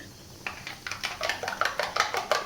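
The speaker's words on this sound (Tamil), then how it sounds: "இந்த ஆம்லேட் போட்டதும் திரும்ப ஒரு வானல் வச்சுட்டு" A frying pan is placed on the stove for making an egg masala, giving a run of sharp metallic clinks and knocks with a rhythmic clatter that grows busier after a quiet start, close and fairly loud with no talk.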